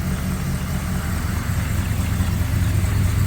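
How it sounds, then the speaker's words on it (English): Holden Torana 308 V8 with a freshly welded exhaust idling steadily, a loud, continuous low rumble with a throaty burble that holds even throughout. "exhaust is done, pretty happy, sounds great too"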